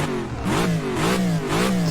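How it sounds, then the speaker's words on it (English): A racing car in the rFactor 2 sim revs up and down in three rising surges, its engine note loud and close with no talk. "rev the engine"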